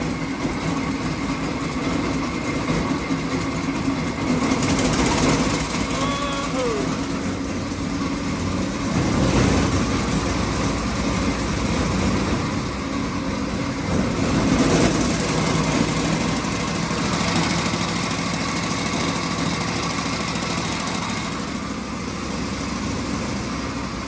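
An old, cobbled-together Ford Model T roadster engine runs with a steady buzzy drone, rising in a few revs around the middle, close and loud throughout with no talk over it.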